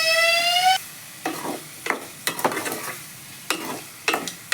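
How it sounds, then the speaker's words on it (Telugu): Ingredients fry in oil in a kadai with turmeric and salt, soft sizzling interrupted by several scraping stirs at an irregular pace, close and moderately loud. "కొంచెం పసుపు, ఉప్పు వేసుకుని ఫ్రై చేసుకోవాలి."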